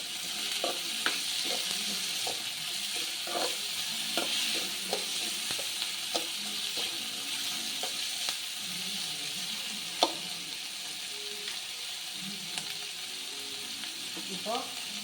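A spoon repeatedly scrapes and stirs samba wheat rava upma in a pan, giving irregular clinks and soft scrapes over a faint steady sizzle, with no voices.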